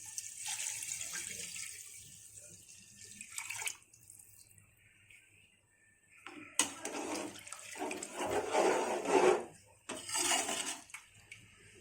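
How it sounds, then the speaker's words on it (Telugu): Water splashes into a cooking pot for chicken pulao in bursts, a close rushing pour stopping and starting several times with quiet gaps between. "రెండు నిమిషాల తర్వాత నీళ్లు పోసుకోవాలి"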